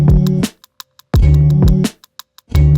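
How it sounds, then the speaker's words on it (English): Simple sampled beat with a kick and snare pattern under chopped sample chords, loud looping bursts separated by brief gaps with small ticking hits in between. "It's very, very simple beat,"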